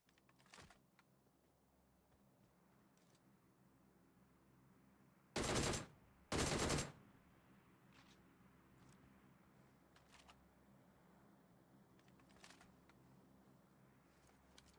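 Gunfire in a shooter video game scrim: two short loud bursts of rapid fire close together, set against quiet background with faint scattered clicks and distant shots.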